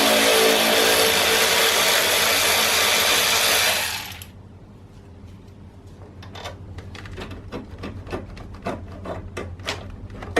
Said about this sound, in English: unbolt the power steering fluid reservoir and tuck it over to one side just to give us some more room. Just held in by these two 10mm nuts.